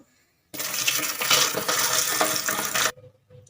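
Water pours in a single steady stream over rice and lentils set to soak for idli and dosa batter, a close splashing rush lasting a little over two seconds between quiet moments.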